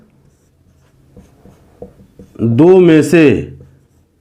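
A few faint, short strokes of equations being written on a board tick lightly in a quiet room, followed by a brief spoken phrase.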